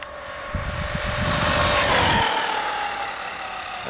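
A Traxxas Maxx 4S RC car on a 5,000 mAh 4S LiPo pack runs at full throttle with a loud, high motor whine that rises and falls as it passes. No one speaks.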